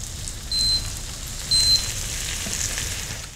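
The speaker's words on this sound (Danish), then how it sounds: "Der skal stadigvæk være lyd, og fedtstoffet skal syde omkring bøfferne, mens de steger." Hamburger patties sizzle and crackle steadily in hot fat in a frying pan, a close, even hiss with a couple of brief high chimes.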